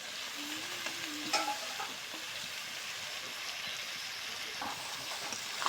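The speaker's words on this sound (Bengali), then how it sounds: "সিদ্ধ করা পাতাকপিটা দিয়ে দিব।" Boiled cabbage stir-fried with spices in a pan sizzles in a low, steady hiss, with a couple of faint utensil taps and soft stirring.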